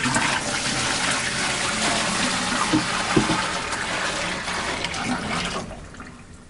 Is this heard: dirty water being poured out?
yes